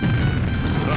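Explosion in the Ghostbusters Doom video game, a loud continuous booming rumble filling the whole second with dense low-end crash noise, with some speech underneath.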